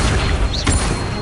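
The Accio summoning spell is cast in the wizarding game Hogwarts Legacy: a short magical whoosh with a rising chime and a soft low thump, all inside a second, over continuous game background noise.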